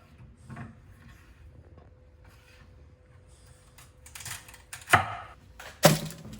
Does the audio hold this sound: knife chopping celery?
yes